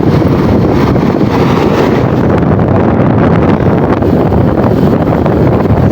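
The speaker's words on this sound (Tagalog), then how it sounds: "Hangin ah." Strong wind buffets the microphone in a constant loud roar, rumbling steadily with no voices, outdoors in Libmanan, Camarines Sur, Philippines.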